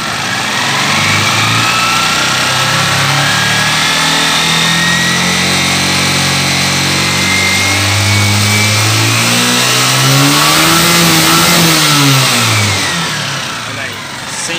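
A 2003 Honda CG 125 Titan KSE motorcycle engine revs up and holds high, its pitch rising and falling in steady swells, loud and close over about fifteen seconds with no talk.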